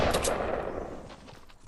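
Gunfire in the video game Fortnite, a rapid burst of close, loud shots at the start that trails off into a fading echo.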